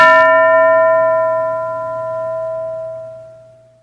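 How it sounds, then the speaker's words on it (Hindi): A single struck bell rings out in a classroom, one bright metallic strike followed by a long, steady, slowly fading tone that hangs for several seconds with no voices. "घंटी बजते ही कोई एक बच्चा खड़ा होगा."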